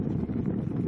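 Cold wind gusting across a mountainside at about 8,500 feet, a brief, dense low roar buffeting the microphone, steady and close with no voices.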